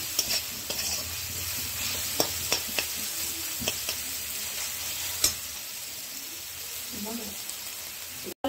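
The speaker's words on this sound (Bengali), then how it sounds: "ভালো করে পেঁয়াজগুলো ভাজা হয়ে গেছে," Onions frying in a pan while egg bahar is being cooked make a steady, close sizzle, punctuated by sharp stirring clicks and scrapes, with no one talking.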